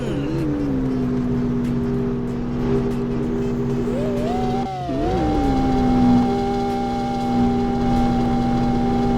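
Engine of a VW Beetle racing in the Roblox game Drive World, a loud, steady motor drone that climbs in pitch as it accelerates, shifts briefly, then holds a high, sustained rev.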